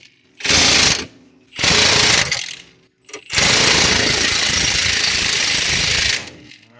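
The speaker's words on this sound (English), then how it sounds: "One hand holding, one hand on the impact, and one hand on the recording device." Impact wrench driving an axle pivot bushing into a Ford E-Series van, three loud bursts of hammering rattle, two short ones and then a long sustained run, close by with no talk.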